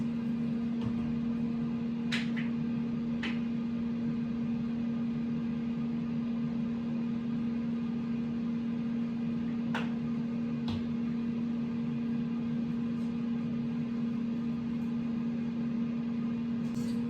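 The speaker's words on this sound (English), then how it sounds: "the air fryer is about 10 minutes on the highest setting for your meatballs" An air fryer runs on its highest setting while cooking meatballs, giving a steady, continuous whirring hum with a low drone throughout and a few faint clicks, with no voices.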